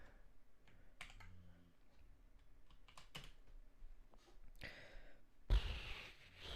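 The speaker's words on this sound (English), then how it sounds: "Sorry, I'm typing with one hand." Rapid, irregular clacking of keys on a computer keyboard typed with one hand, close and fairly quiet, with short pauses between bursts and a louder rustle near the end.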